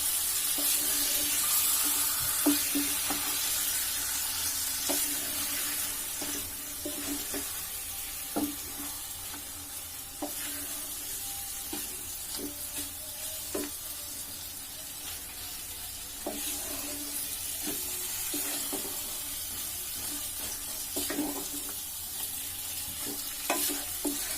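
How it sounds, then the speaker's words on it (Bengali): Beef chunks being stir-fried with spice paste in a pan for beef bhuna, a low steady sizzle under repeated scraping and clinking strokes of a spatula against the pan at an irregular rhythm, close and moderate. "এখন আমি মাংসগুলোকে কষিয়ে নেব মশলার সাথে"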